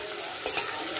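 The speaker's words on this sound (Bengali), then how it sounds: "এরপর পেঁয়াজ কুচিগুলো দিয়ে দেবো।" Chopped onions fry in a small amount of oil, making a steady, soft sizzle broken by two quick stirring clatters, with no voices.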